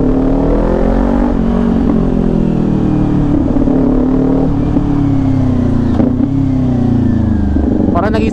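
Kawasaki Ninja 400 sport bike with an SC Project exhaust, a loud close engine note that holds and rises steadily, with small revs and a clattering burst near the end.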